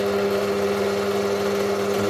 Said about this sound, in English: So I'll just turn my drill on.